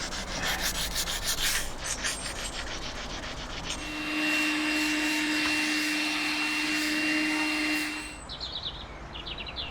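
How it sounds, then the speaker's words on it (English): Sanding and cleanup around the roof window opening of a camper: a steady, close rubbing and whirring drone that swells louder midway, with no talking. "So, sanded and cleaned."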